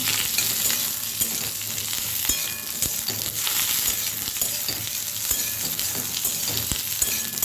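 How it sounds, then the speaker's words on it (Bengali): Ridge gourd pieces sizzle steadily in a hot pan while being stirred, a close, continuous frying hiss punctuated by scattered scrapes and taps of the spatula, with no voices. "ঝিঙেগুলো দিয়ে একটু নাড়বো।"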